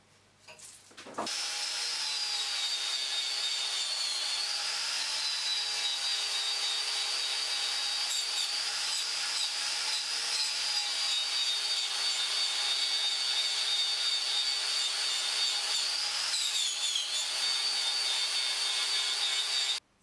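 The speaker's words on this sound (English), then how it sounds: "We're just going to swap over to the blue polishing compound." Steel being polished with blue polishing compound on a powered polishing wheel, a loud, steady whirring rub that starts abruptly after a second and runs unbroken at close range, stopping sharply at the end.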